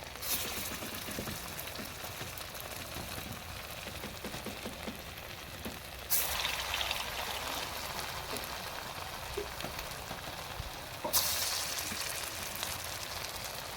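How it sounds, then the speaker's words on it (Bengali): Soybean fritters fry in hot oil in a pan, giving a soft, even, rain-like sizzle. Two brief louder hissing bursts stand out partway through. The sound is quiet and close, with no voices. "সোয়াবিনের বড়াগুলারে এভাবে ভাজা হয়ে গেলে গিয়ে নামায় নেবো"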